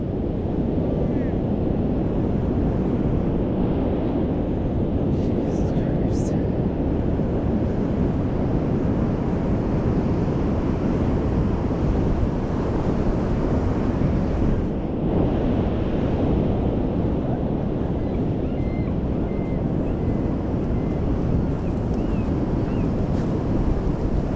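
Large ocean surf at sunset during hazardous seas, waves roughly 28 feet high, roaring as a steady, loud, continuous wash with heavy wind buffeting the microphone throughout.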